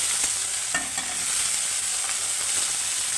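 Onion pieces and chopped green chillies frying in a light oil tempering for ragi semiya upma, a steady close sizzle with occasional soft stirring scrapes throughout, no voices.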